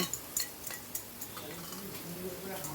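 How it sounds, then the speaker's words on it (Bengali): Drained mung dal tipped into a cooking pan, with sharp clinks and taps of a utensil on the pan at the start, then soft scraping and shuffling, fairly faint and close. "এবার জল ঝরিয়ে রাখা মুগ ডালটা আমি দিয়ে দিলাম।"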